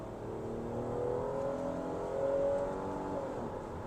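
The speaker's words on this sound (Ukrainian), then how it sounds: "При цьому двигун V6. Чутно, що це V6." A Mitsubishi Outlander 3.0 GT V6 engine hums steadily from inside the cabin, its pitch rising as it accelerates, with a slight swell in the middle.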